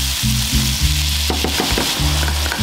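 Tomato dropped into a hot pan for Guatemalan cauliflower in egg with tomato sauce, sizzling and frying steadily with a few stirring scrapes, close and loud, no talking.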